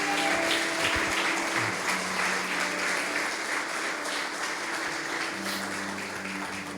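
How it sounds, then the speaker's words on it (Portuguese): A church congregation applauds two people brought up as models during a Sunday morning sermon, a steady, fairly quiet wash of many hands clapping that fades slightly over about seven seconds, with a faint voice underneath. "Vocês podem dar uma salva de palmas pelos meus dois modelos."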